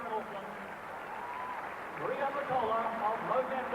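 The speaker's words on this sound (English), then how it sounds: "Getting a tremendous ovation from the crowd here" A stadium crowd at a 1993 athletics race roars in a steady, dense wash as Maria Mutola runs, swelling slightly toward the end, with a commentator talking over it throughout.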